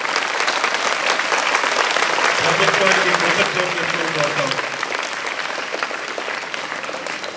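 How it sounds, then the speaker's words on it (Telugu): A crowd at a political meeting claps loudly and steadily, a dense sustained roar of applause while someone speaks over it through a loudspeaker. "గట్టిగా చప్పట్లు కొట్టి అందరూ"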